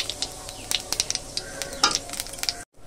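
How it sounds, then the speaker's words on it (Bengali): Whole cumin seeds and a dried red chili hit hot oil in a wok, giving a close sizzle peppered with sharp crackling pops and a light metal clink, ending abruptly; no talking. "এবার আমি কড়াইতে গোটা জিরে ফোড়ন দেব, আর শুকনো লঙ্কা একটা।"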